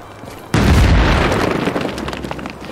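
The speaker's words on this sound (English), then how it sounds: "Mortars, run for cover!" Mortar rounds burst in the World War II game Land of War, one loud, close boom that rolls into a long rumbling decay.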